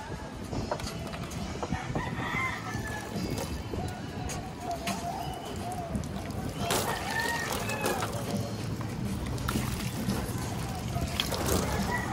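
A breeder rooster crows and clucks in a morning backyard among other birds, its calls rising over steady background noise while people talk nearby.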